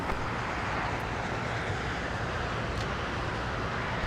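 An ANA special livery airliner taxis at LAX, its engine drone a steady, broadband roar mixed with wind noise, constant and fairly close throughout with no talk.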